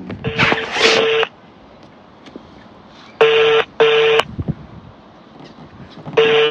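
A phone call being placed, with repeated electronic ringback tones in bursts with silent gaps between them. The tones are clear and close, and nobody talks.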